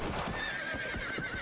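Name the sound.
horses neighing in Red Dead Redemption video game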